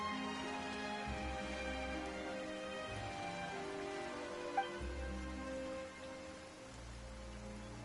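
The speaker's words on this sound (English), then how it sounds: "Why is it raining all of a sudden?" Steady rain falls in a video game scene, a soft, even hiss spread across the whole stretch, with quiet sustained tones and low rumbles underneath and no voices.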